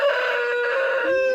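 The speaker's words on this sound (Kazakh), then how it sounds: "Ол тауықтар бәрі." A chicken in a backyard flock gives one loud, drawn-out crowing call, close by, lasting over a second with no talk or other sounds around it.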